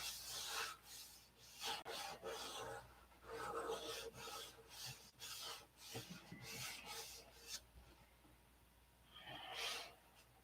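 Rasping strokes of sandpaper on wood, irregular back-and-forth rubbing bursts, close and fairly quiet, with brief pauses between passes.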